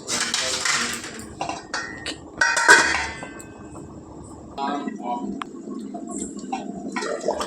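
A spoon clinks and scrapes against a pot as fish pieces are stirred into simmering tamarind curry, with several short metallic knocks and clatters among quieter stretches, and a voice speaking over part of it.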